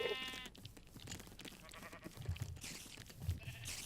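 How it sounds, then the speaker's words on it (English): Sheep bleating in Minecraft, a few short bleats rising over steady game ambience and background sounds, moderately close, with no talking. "Sheep have been eating this grass over here."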